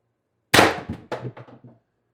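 A single sharp clanging shot from an X-68 Storm Trooper blaster build, loud and close, followed by a quick trail of rattling mechanical clacks that fade within about a second.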